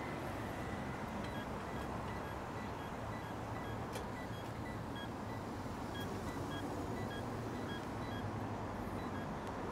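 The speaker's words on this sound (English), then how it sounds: "That's a weird beeping noise it makes." Honolulu pedestrian crossing walk signal sounding in short repeated beeps over steady loud street and traffic noise, the tones faint and high above the roar.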